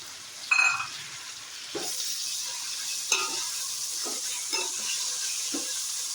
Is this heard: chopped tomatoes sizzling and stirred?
yes